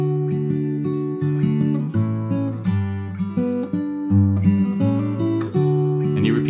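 An acoustic-toned guitar in standard tuning without a capo plays an intro: clear plucked single notes and ringing open strings in a steady, repeating arpeggiated pattern, close and alone with no voices.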